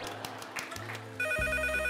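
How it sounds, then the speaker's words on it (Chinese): On a television dating show, a phone ringtone starts abruptly partway through, after soft studio sounds. The electronic ringing is loud and sustained and continues to the end. "接电话。"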